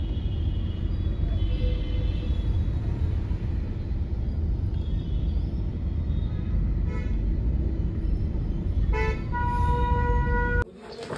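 A congested street in Karol Bagh, Delhi, with a constant rumble of idling and crawling vehicles, several car horn honks toward the end, and one short toot in between.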